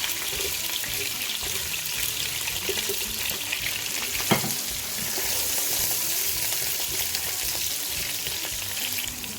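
Onions with green chillies and cumin sizzle steadily in a pan, a continuous close frying hiss with faint stirring scrapes and one sharp clink midway, no voices.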